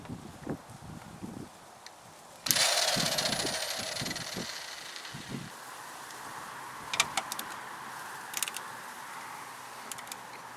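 Impact gun on the wheel of an old Nissan Sentra: a sudden loud burst of rattling hammering starts partway through and runs for a few seconds, then gives way to quieter clinks and shop noise.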